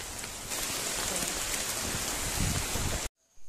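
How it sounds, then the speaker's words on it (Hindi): Steady, dense rain patters on a surface, close and loud, then cuts off abruptly near the end. "इस रास्ते में ही बारिश पकड़ लिया"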